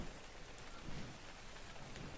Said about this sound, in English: it's usually always raining in the swamp